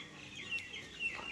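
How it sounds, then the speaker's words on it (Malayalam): Native spotted chickens on a farm cluck softly in the distance, with a few short calls rising over a quiet background and no talk. "നാടൻ കോഴികളുണ്ട് കേട്ടോ, പുള്ളിക്കോഴി,"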